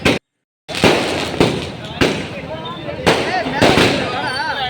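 Diwali firecrackers burst at midnight as a run of sharp, loud bangs about every half second to a second, each trailing into crackling and hiss, with distant whistles and faint voices between them.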